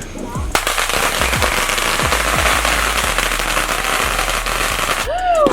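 Malfunctioning fireworks burst outdoors in a rapid string of sharp crackling explosions, loud and close over a dense crackle, with voices and a brief whistle near the end.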